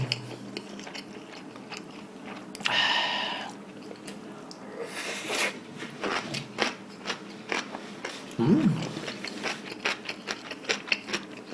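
Beef seaweed soup ramen being eaten close up, with wet chewing, slurps and soft crunchy bites in an irregular rhythm, plus a brief louder rustle and clatter partway through.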